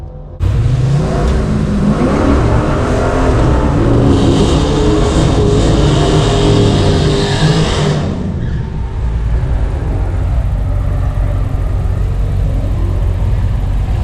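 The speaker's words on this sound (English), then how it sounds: "Figure I put on a smoky burnout, why not?" A drag racing car at a drag race meet does a smoky burnout, its engine loud and close as it revs and roars with the high whine of spinning tyres, then settles to a steady rumble for the rest.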